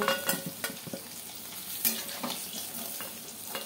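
Potatoes fry in hot oil for a Bengali katla fish curry. A soft sizzle runs under a few close clinks and scrapes of a spatula stirring in the pan.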